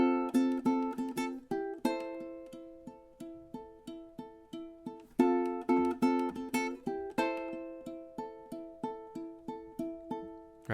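Ukulele picking the intro of a song: quiet plucked notes in a steady repeating pattern with crisp attacks, alone with no voice, the phrase starting over partway through.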